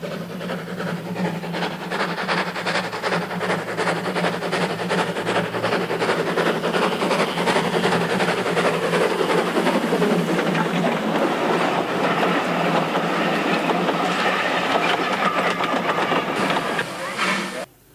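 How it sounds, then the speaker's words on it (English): A model railway coal train hauled by a steam-style locomotive runs steadily and loudly throughout, its continuous rolling rumble and rhythmic clatter holding until it cuts off near the end. "this coal train headed by a rather fine loco"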